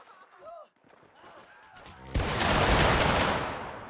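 Massed rifle volleys in a Mount & Blade Warband American Civil War battle crash in loudly after a short stretch of speech, a dense roar of overlapping shots that holds and slowly fades.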